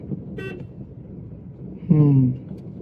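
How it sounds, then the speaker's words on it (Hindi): A car horn honks once in a short, sustained blast, loud and close, over a low engine rumble with a faint tonal note earlier, in a narrow lane. "हॉर्न दीजिए पूरा"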